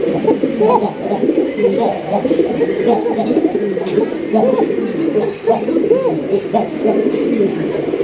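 Rasgolla pigeons at a pigeon farm in Kashimpur, Gazipur, coo repeatedly in overlapping throaty calls, close and fairly loud, with other birds murmuring in the background.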